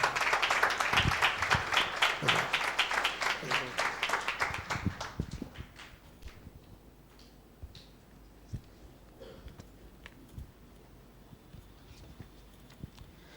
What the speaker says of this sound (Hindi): एक जोरदार ताली देंगे परमेश्वर की महिमा के लिए